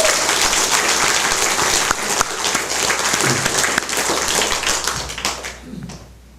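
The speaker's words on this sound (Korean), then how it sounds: "우리 청소년 잘했다고 격려 박수 한번 쳐드릴까요?" A church congregation claps to encourage its youth, a lively burst of many hands applauding together with a few sharper taps, holding steady for several seconds before trailing away at the close.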